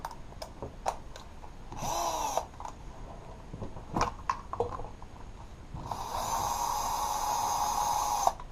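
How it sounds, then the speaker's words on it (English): A handheld power drill fitted with a 3mm bit whirs in two bursts, one short and one longer sustained run, between clicks and handling knocks while parts are being installed. "I'm going to use the drill."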